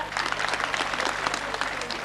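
An audience at an annual school function in Matiana applauds a prize announcement with dense, continuous clapping that stays steady and fairly close for the whole stretch.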